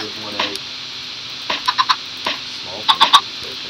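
Chickens clucking in Minecraft, short clipped game clucks in quick bursts of three, near and moderately loud over a quiet background hum.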